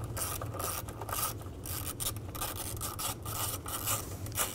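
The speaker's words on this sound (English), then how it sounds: "Loosen up this bolt." A ratchet with an 8mm socket loosens a timing cover bolt on a 2000-2006 Chevy Tahoe, giving a continuous close rasping click-whir for several seconds at steady loudness.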